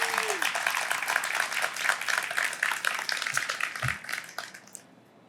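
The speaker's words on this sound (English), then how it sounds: "You can clap for that." A crowd applauds at a dining hall dedication celebration, with clapping filling most of the clip before tapering off, and a voice briefly heard at the start.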